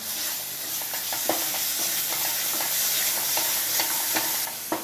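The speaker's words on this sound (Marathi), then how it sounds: "आता मस्त असा फोडणीत परतून घेतलंय" Ground Malvani masala paste sautéed in a hot tempering for black pea sambar gives a dense, close sizzle with soft scraping stir strokes throughout.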